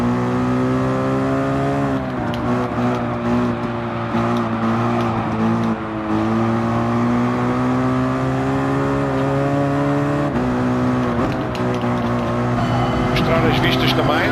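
Mercedes race car engine in Gran Turismo Sport on an oval track, a loud, sustained roar with steady harmonic drone and slight pitch shifts as it holds speed, with someone talking over it.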